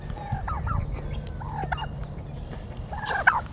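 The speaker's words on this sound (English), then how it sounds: "All these chickens." Several chickens in a yard give short clucks and squawks at a moderate distance, in scattered bursts over a low background hum.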